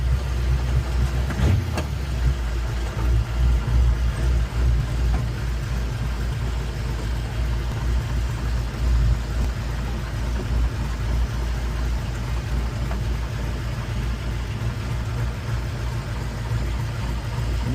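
The engine of a 1934 sedan delivery runs with a steady low rumble. It sounds like it is heard from inside while driving, with a continuous moderate drone and no talk.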